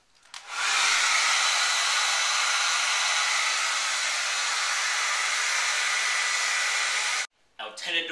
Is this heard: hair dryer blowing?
yes